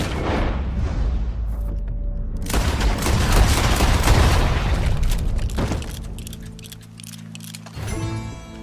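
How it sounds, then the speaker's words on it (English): A gunshot in Red Dead Redemption 2, a loud boom that decays slowly into rumbling reverb and is followed by quieter ambient sound. "He shot the thing!"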